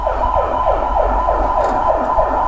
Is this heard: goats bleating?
no